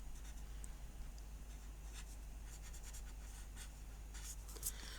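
Soft, steady scratching of colored pencil strokes on paper, close up, with a constant low hum underneath and no talking.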